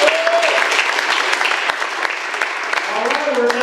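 An audience applauds at a comedy showcase in a civic theatre, dense sustained clapping close and loud throughout, with a voice beginning to speak near the end.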